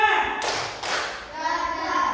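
A fourth-grade class claps a counted pattern, two quick, loud group claps close together near the start, with children's voices continuing around them.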